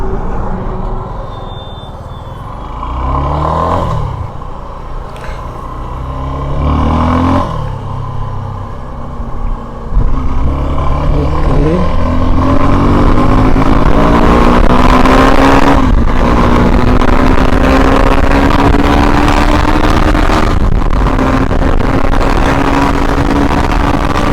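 Suzuki V-Strom 250 SX motorcycle pulling away in first gear, its engine note rising steadily over about twenty seconds, close and loud, with wind and road rumble building underneath.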